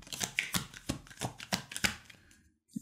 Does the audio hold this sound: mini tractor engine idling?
no